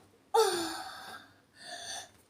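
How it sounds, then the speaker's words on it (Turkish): A person draws one sharp, deep breath in, then lets out a second, softer breath a moment later, both close and loud in an otherwise quiet room. "Derin nefes alacağım."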